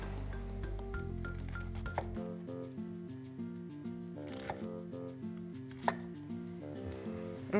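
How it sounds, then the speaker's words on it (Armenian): Onion chopped with a knife on a cutting board, a steady run of quick rhythmic taps close by, over a tonal background, with no talking. "Բայց ես հիմա սոխն էլ կտրեմ"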